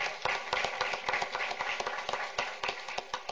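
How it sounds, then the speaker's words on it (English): A school board meeting audience claps for AP scholarship students, a steady patter of many hands at moderate distance with sharp individual claps standing out, continuing evenly throughout. "Let's give our REL AP scholars who could be with us tonight another big round of applause."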